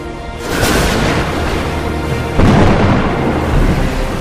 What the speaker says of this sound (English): a sudden violent storm like this one pushed them off course